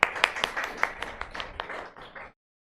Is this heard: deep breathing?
no